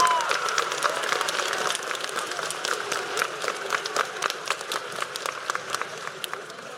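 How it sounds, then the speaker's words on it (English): An audience at a 7th and 8th grade school spring concert applauds the soloists, a dense, steady wash of many hands clapping with sharp individual claps standing out, sustained throughout and slowly thinning toward the end. "can we have another round of applause for all the soloists so far"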